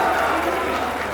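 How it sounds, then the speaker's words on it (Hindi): A Hindi poetry recital audience at a kavi sammelan breaks into dense, sustained applause, many hands clapping together at moderate volume. "एक बार तालियों से आदेशित कर दीजिए"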